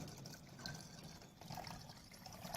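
Water poured into a bottle for a science demonstration, a soft gurgling trickle that swells and bubbles as it fills, quiet and close with no talk.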